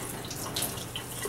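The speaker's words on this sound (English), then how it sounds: "rinse it butt end down with a gentle stream of water" A gentle stream of tap water runs steadily into a sink while a blood-film glass slide is rinsed butt end down, a soft continuous splash heard alone at low level.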